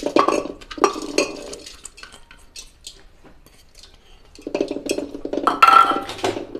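Close clinks and scrapes of metal as washed lentils are tipped into a pressure cooker for sambhar, with brief pauses between the clatters and no talking.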